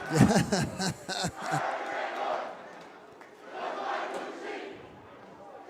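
Student section crowd at a high school basketball game, Tahoma Bears at Glacier Peak Grizzlies, singing a cheer together, a broad roar of many voices that swells, dips and rises again, with close talk over it at the start.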